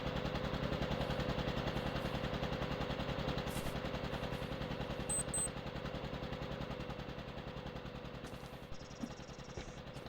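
Nail gun driving nails into plasterboard during house building work, a steady fast rattle of repeated shots running throughout at moderate distance, with a few faint clicks over the top.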